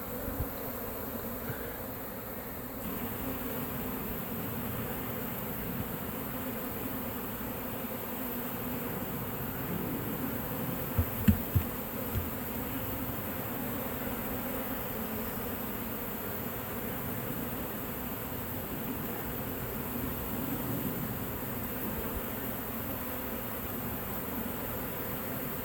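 Honeybees at a hive built inside a mobile home during a removal in Lakeland, Florida, a dense, steady buzzing swarm that continues evenly throughout, with a couple of faint knocks midway.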